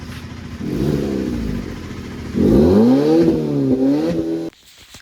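A car fitted with an aftermarket exhaust revs loudly and close by: a shorter burst, then a longer rising rev that wavers and cuts off abruptly.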